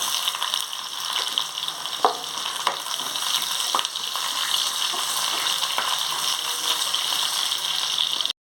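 Garlic, dried chili and onion sizzling in hot oil on a stove, a loud steady crackle with a few sharp pops throughout, cutting off abruptly at the end.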